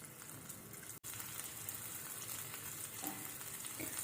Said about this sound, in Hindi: अब हम इसमें लहसुन, बारीक कटा हुआ लहसुन जो है उसको थोड़ा सा हल्का सा भून लेंगे।